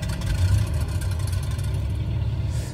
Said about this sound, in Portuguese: este avião é extremamente alto, em termos de barulho do motor